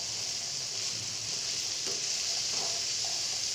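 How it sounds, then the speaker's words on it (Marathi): Chickpeas cooking in oil in a pan over low heat give a steady, even hiss of sizzling with a few faint stirring sounds. "आपले छोले तेलामध्ये मऊ होतात आणि फ्राय होतात एकदम चांगले।"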